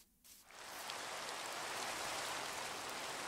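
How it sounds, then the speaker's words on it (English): Steady rain in the Minecraft video game, a dense continuous hiss that swells in after a brief quiet opening and holds loud and even to the end, with no talk over it. "I don't have a roof, and it's raining"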